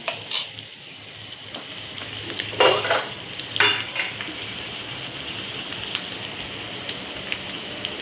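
Potatoes frying in a pan and being stirred, with a steady, close sizzle broken by several louder scraping and clattering strokes of the utensil against the pan, no voices.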